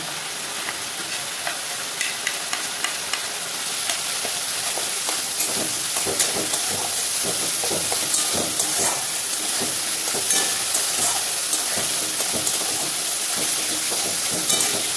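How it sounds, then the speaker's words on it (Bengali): Chopped tomatoes sizzle in a spice masala in a pan over low flame, a steady frying hiss with scattered crackles and occasional stirring scrapes, close and continuous with no talk. "এরপরে এর মধ্যে আমি দিয়ে দিচ্ছি কুচিয়ে রাখা টমেটোগুলো।"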